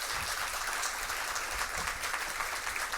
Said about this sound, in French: Je vous demande de l'applaudir très chaudement